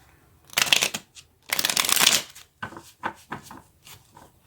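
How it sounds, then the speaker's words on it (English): A deck of playing cards is shuffled quickly in two fast riffling bursts, each a dense crisp flutter, followed by a few softer taps and flicks as the cards are squared up, close and clear with no talking. "I'm going to shuffle these quickly"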